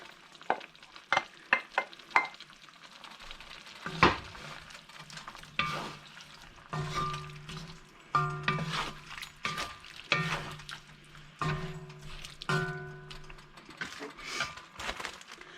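Pork is stir-fried with cooked vegetables and garlic, giving steady sizzling broken by repeated spoon scrapes and stirring clatter against the pan, close and moderately loud with no talk.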